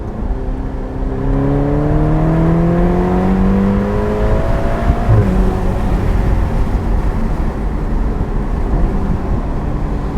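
Ferrari Portofino accelerating hard in third gear after a downshift, with a loud, steady engine note rising in pitch over a constant road and wind roar heard from inside the cabin.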